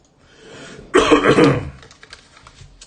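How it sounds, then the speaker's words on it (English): A single burst of harsh coughing, loud and close, lasting about half a second, with quiet room sound before and after. "I've got this cough I've had for the past 2 or 3 weeks."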